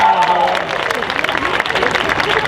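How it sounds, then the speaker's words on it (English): Crowd at a cosplay contest at the Orlando Japan Festival applauds, giving loud, steady clapping mixed with cheering and voices throughout a short burst. "Give a round of applause."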